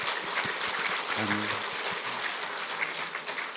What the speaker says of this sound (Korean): 우리 감사의 박수를 한번 주님 앞에 올려드리겠습니다.